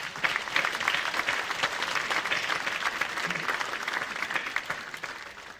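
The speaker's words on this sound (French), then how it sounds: "Vous pouvez aussi les applaudir" An audience at a mayor's New Year address applauds association volunteers, with loud and dense clapping that stays even and then eases slightly toward the end.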